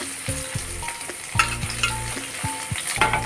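Onion, green chili and curry leaves sizzle and fry in a pan, with steady crackling broken by several sharp scraping stir strokes, close and alone without any voices.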